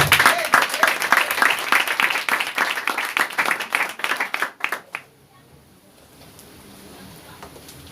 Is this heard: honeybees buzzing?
no